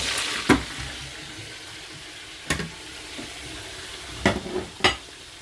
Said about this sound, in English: at the same time frying already my melisa fish